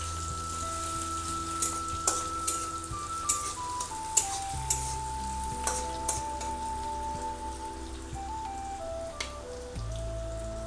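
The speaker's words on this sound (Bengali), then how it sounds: "পেঁয়াজগুলো হালকা ভেজে নেব" Onions being lightly fried in a pan, a steady close sizzle with scattered spattering pops, played under a background melody.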